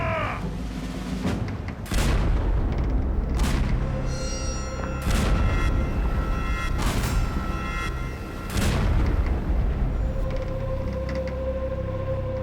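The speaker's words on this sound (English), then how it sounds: "When the cannons were fired, the great roaring sound caused the Hawaiians to drop to the deck" A series of heavy booms from cannons firing blank powder charges rings out one after another at irregular intervals, loud and echoing, with crackling rumble between blasts.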